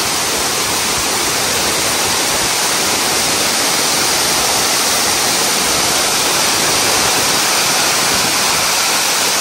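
Water pours heavily inside a factory cooling tower, a loud unbroken roaring rush that fills the whole space with no pauses.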